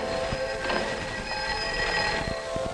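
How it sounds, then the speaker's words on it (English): A vibrating bell ringing with sustained metallic tones and overtones, steady and close, with a few soft knocks underneath and no talking. "Start this bell vibrating."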